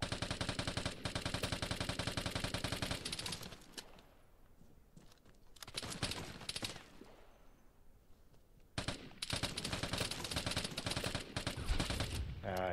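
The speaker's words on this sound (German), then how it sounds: "Da hinten schießt noch einer." Rapid automatic gunfire from the game Vigor comes in three long, loud bursts with quieter gaps between them, where faint distant shots and some talk can be heard.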